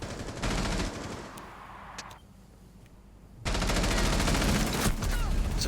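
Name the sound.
gunfire in video game Rainbow Six Siege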